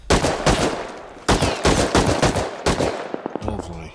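Automated turret in the Rust video game outside an outpost, firing in loud, rapid bursts of gunshots separated by short pauses, then trailing off into scattered clicks and faint game sounds near the end.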